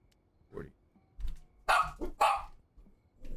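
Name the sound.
dogs barking in video game Schedule 1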